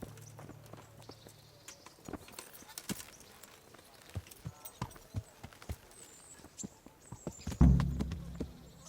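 Horse hooves clip-clop at a steady riding pace in the Kingdom Come Deliverance video game, with occasional thunks and a heavier thud near the end, all moderately loud and close.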